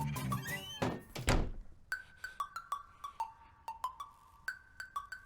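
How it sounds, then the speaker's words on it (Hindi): A wooden house door being pushed shut indoors gives a couple of heavy thunks, followed by a run of sharp, regular tapping or clicking hits. "तुम जाके वो दरवाजा बंद करो।"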